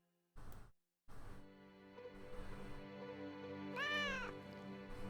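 A kitten in a video game gives several clear meows, one rising and falling cry standing out near the end, over a soft steady background hum.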